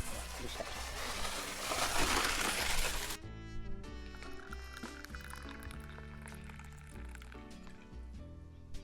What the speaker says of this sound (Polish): mogłam sobie nagrać, jak nalewam herbatę